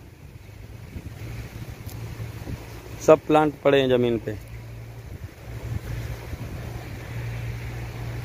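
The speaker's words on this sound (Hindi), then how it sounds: "बहुत तेजी से हवा चल रही है" Strong wind roars steadily outdoors at a plant nursery, a constant broad rush with gusty microphone buffeting throughout, and someone speaks briefly in the middle.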